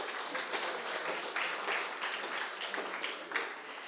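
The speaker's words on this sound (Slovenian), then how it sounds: "Tako da ga lepo pozdravimo z aplavzom v naši sredi." A lecture audience applauds to welcome a researcher from the Chemical Institute at a public science talk. The clapping is steady, dense and moderately distant, with no voices, and holds evenly throughout.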